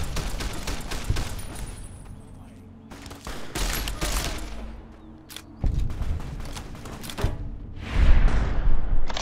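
Gunfire in the video game Fallout: New California rings out in sharp cracks and short bursts, with quiet stretches between volleys and a heavy thump near the end.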